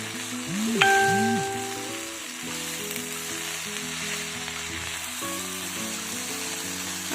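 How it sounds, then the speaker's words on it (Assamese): Pumpkin with sugar frying in a hot pan gives a steady, soft sizzle throughout, with faint stirring scrapes and a few low tonal sounds in the background. "ভালকৈ চেনিখিনি দি পেলাই মই ভালকৈ আৰু লাৰি পেলাই 2 মিনিটমান এনেকৈ মই ভাজি লৈছোঁ"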